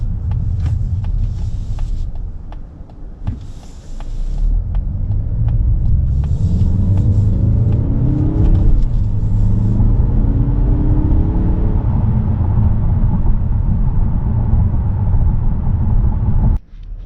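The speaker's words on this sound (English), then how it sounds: "I'm not trying to rev it real hard or anything like that. Doesn't mean you can't have fun and sport shift." A Mazda car engine revs under sport shifting, a loud steady rumble that climbs in pitch through the gears, with a brief dip near the start and a sudden cut at the very end, no talking.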